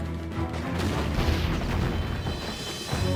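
Dense gunfire and booming explosions from all sides in the aerial shoot-'em-up Aces of the Luftwaffe, a continuous loud barrage of pops and blasts with no pauses.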